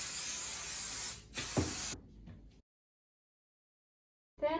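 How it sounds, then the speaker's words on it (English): Adhesive spray hisses from a can onto quilt backing fabric in two loud close bursts, the second followed by silence before a brief third burst starts at the end. "My favorite way to attach the layers is to use an adhesive spray."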